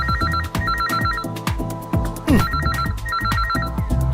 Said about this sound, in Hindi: क्या बकवास फोन है, बेकार टाइम पर बजता रहता है।